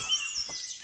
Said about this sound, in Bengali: এত সুন্দর পাখির ডাক শোনা যাচ্ছে